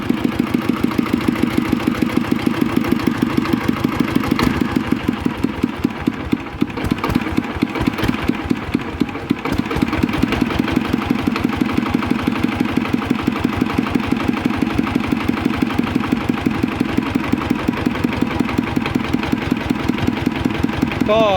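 A small engine powering a water pump runs at a steady idle close by, its rapid even firing pulses continuing throughout while someone talks over it.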